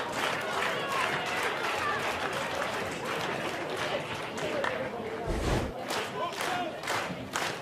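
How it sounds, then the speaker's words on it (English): A football crowd at McKillop Park during Canberra United v Adelaide United: loud, continuous cheering and shouting with surging roars, under a commentator's voice. "The crowds at McKillop Park can really get in your head."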